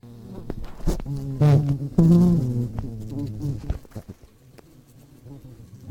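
Steady droning buzz of bees heard over a phone call, sounding muffled through the line, with a few louder swells and crackles.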